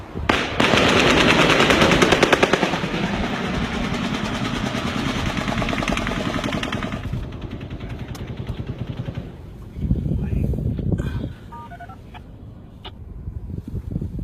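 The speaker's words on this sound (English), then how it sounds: "I see a shot coming from Mandalay Bay." Sustained automatic gunfire fired from Mandalay Bay in Las Vegas rattles in long rapid bursts, loud and continuous, stopping briefly and then resuming in shorter volleys.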